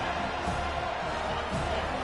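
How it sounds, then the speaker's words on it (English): Dense stadium crowd roaring continuously at a college football game, a broad steady wash of cheering and noise that holds loud for the whole stretch with no break. "Listen to this crowd just shaking the girders of this place, trying to help their defense."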